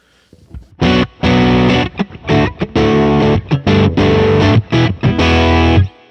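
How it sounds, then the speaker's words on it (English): Heavy distorted electric guitar through a simulated 4x12 cabinet plays chugging chords and riffs with short gaps between phrases, thick and loud with a full low end. "So it'll give you that like 412 type cabinet sound"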